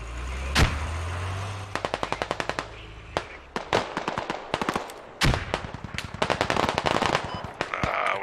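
Rapid automatic rifle bursts and single gunshots crack close and loud in a 40v40 Squad military shooter game, dense stuttering volleys repeating throughout with no pauses.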